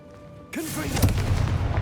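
Confringo fire spell in Hogwarts Legacy bursts into a sudden loud explosive blast with a rumbling, crackling tail lasting over a second, after quieter game ambience.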